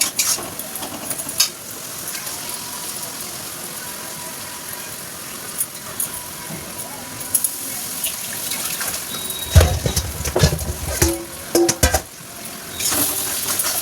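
Ginger, garlic and green chili paste frying with spice masala in a pan, a steady low sizzle with stirring scrapes and clinks, louder clatter near the end.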